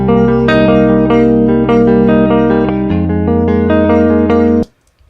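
A clean electric guitar DI plays through the JST Toneforge amp plugin with effects bypassed, a close, dry run of picked chords and single notes changing every half second or so, then stopping abruptly near the end.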